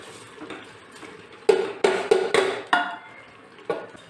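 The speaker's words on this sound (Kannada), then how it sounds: "ಈಗ ಅಕ್ಕಿ ಹಾಕ್ತಾ ಇದ್ದೀನಿ ಅರ್ಧ ಕೆ ಜಿ ಅಕ್ಕಿ ತಗೊಂಡಿದ್ದೀನಿ" Half a kilo of rice tipped into a cooking pot, several sharp clattering hits and rattles in quick succession, close and fairly loud, followed by one more knock.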